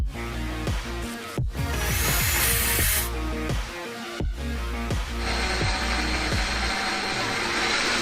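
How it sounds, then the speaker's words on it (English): A power drill boring holes into a Nokia mobile phone, whirring in bursts with abrupt stops and restarts, grinding and rattling as the bit bites into the casing. "with the help of drill machine, we are able to drill a few holes around the phone"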